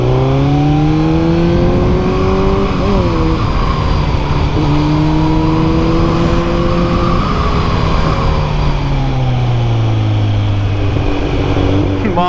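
A motorcycle with a new exhaust revs loudly up and down in repeated swells, short of full power, its pitch rising and falling, heard close with no voices.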